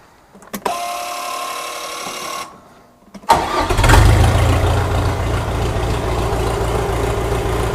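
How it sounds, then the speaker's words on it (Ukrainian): A tractor diesel engine cranks, catches on the second attempt, then settles into a loud, steady idle. "Зараз я вам продемонструю заведу трактора."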